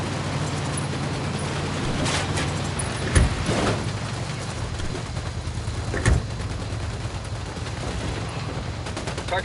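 Gunfire from Ghost Recon Wildlands cracks over a constant vehicle rumble, with a couple of sharp loud shots standing out among scattered bursts, no speech.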